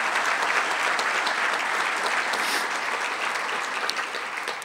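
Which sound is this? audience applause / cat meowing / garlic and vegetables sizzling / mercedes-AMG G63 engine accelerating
audience applause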